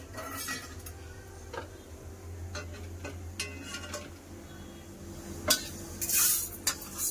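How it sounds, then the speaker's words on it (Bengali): Roasted mung dal poured out of a pan in a home kitchen, with scattered light clinks and a brief rattling rush near the end, no talking. "ডালটা আমার ভাজা হয়ে গেছে, ডাল ঢেলে নেবো।"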